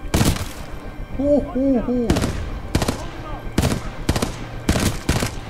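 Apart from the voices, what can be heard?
gunfire in the video game Titanfall 2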